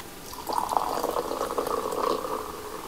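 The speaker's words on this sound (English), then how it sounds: "Let's open the watermelon" Red Bull watermelon flavor can being opened: a sharp tab pop followed by steady fizzing carbonation hissing close up for a few seconds, no voices.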